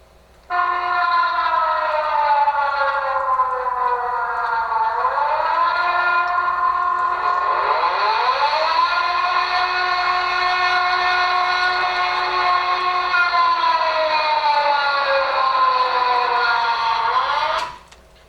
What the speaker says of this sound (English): This is the sound of the sirens.